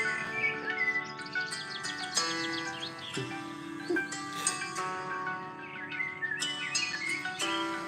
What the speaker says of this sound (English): You guys listen to the birds.